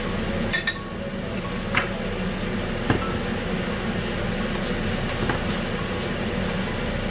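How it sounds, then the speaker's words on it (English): Kurri pakora curry simmering in a pot after coriander powder goes in, a steady low bubbling and sizzling hiss with a few light clinks of a utensil against the pan. "let it just simmer until it all softens down"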